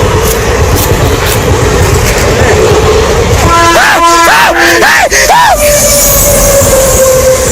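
A train arrives on a railway track with an elephant standing on the rails, a loud continuous rumble with tonal horn-like whoops in the middle and a long steady tone toward the end, close and dominant.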